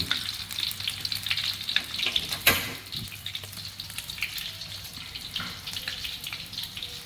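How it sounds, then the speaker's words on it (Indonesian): Shallots fry in a wok with a steady, close sizzling hiss that runs the whole time, broken by a few sharper crackles and light clatters from stirring, with no talk. "Ini bawang merah sedang digoreng dalam kuali."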